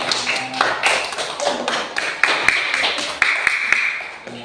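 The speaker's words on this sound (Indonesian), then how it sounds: "Tepuk tangan untuk semuanya." A class of students claps hands during a lesson, giving a close, uneven burst of sharp individual claps, some louder and distinct, over several seconds with faint voices underneath.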